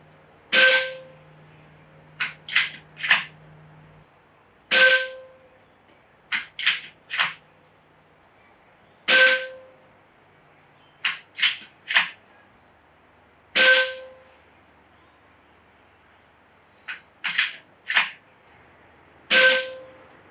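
An AEA Challenger Bullpup PCP air rifle fires in a quiet backyard, sharp cracks coming singly and in quick bursts of two or three with pauses between, each shot trailed by a short metallic ring.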